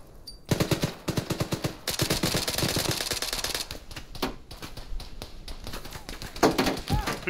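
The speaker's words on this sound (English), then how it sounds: "Who's shooting at me?" Rapid bursts of video game gunfire rattle in dense volleys at the player, loud and close, with brief pauses between strings of shots and a heavy impact near the end.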